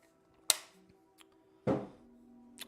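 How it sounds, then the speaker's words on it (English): A water bottle falls indoors with a sharp knock, then a second, duller thud a second later, both fairly quiet against a hushed room. "Water bottle fell."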